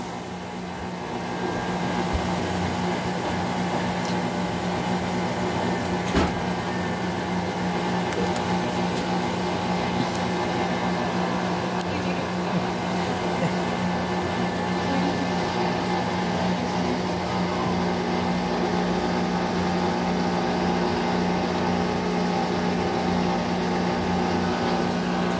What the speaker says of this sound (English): It's going to start doing like a low spin because actually like a medium speed spin